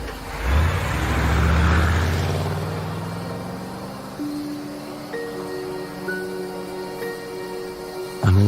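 A car pulls away, its engine rumbling up loudly over the first two seconds before fading into the distance, leaving a quiet night setting with steady faint tones.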